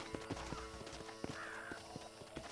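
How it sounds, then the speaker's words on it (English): A horse in the video game Red Dead Redemption gallops with rapid, rhythmic hoof clops and lets out a whinny partway through, all over a continuous game soundscape. "Stupid ass horse is gonna die."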